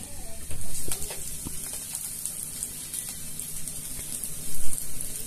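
Chopped onion and green chilli hit hot oil in a wok, giving a continuous close hiss with a few louder bursts and light clinks of stirring.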